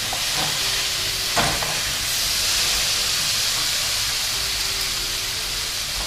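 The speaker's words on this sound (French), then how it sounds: "Je vais ajouter les tomates." Tomatoes tip into a hot pan of spiced butter chicken base with coriander, mild chili and garam masala, setting off a steady, close hissing sizzle that holds for several seconds with a faint clatter near the start.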